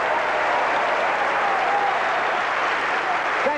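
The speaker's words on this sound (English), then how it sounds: "You don't have to applaud." Steady, dense audience applause in a theatre fills the whole stretch, continuous and fairly loud, with no talk over it.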